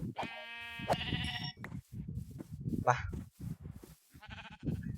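Sheep bleats from the Minecraft video game, a few short nasal calls over background music and game sounds, with someone talking throughout.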